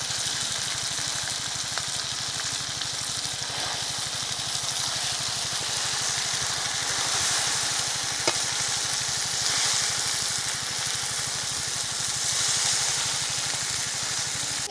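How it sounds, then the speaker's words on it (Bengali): Shredded cabbage frying in a pan with cumin and ginger, a steady broadband sizzle with occasional soft stirring scrapes, close and even throughout with no talking. "জিরে আদা বেশিক্ষণ কষবো না, এখন আমি বাঁধাকপিগুলো দিয়ে দেবো।"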